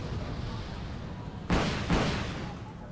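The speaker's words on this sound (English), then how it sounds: "Whoa, American missiles." Two heavy missile launches in Wargame: Red Dragon boom out in quick succession, each a sudden loud blast with a roaring tail over a low rumbling battlefield bed.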